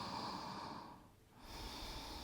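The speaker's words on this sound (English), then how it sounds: "One more deep breath." One deep breath taken during a yoga session: a long airy inhale through the nose, a brief pause, then a soft exhale, close and quiet with no talking.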